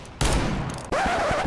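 A single heavy R8 Revolver shot in the video game CS:GO cracks out loud and close, followed by a second sharp report with a ringing tail.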